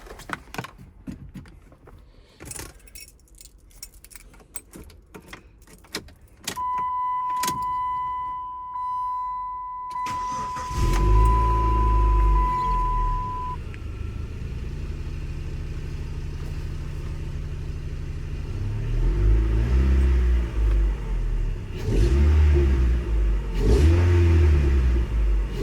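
A Chrysler PT Cruiser, just after steering wheel and airbag work with the battery reconnected, is started: clicks and key sounds, then the engine cranks, catches and runs with a loud steady idle and a couple of revs, close by.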